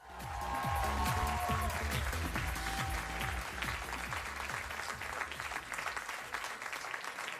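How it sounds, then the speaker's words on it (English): A late-night talk show studio audience gives long sustained applause, dense and even throughout with some whoops and cheers early on, fading slightly as it continues. "Thanks for that extended applause to get us past a little bit there."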